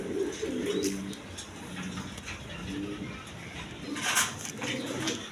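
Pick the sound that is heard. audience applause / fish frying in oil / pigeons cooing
pigeons cooing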